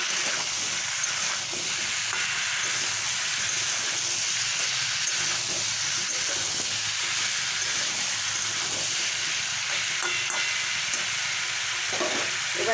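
Mixed vegetables with salt being stirred and fried in a pan, a loud, steady sizzle with scraping stirs throughout.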